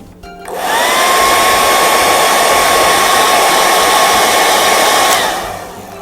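A hair dryer drying paint on a hand-painted wooden box spins up quickly, holds a loud, even blowing whine close by, then winds down and fades.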